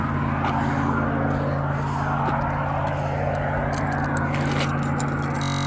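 The engine of a 2000 Ford F250 with a replaced water pump runs with a steady, close, loud rumble and a constant low hum throughout, with a few faint clicks over it.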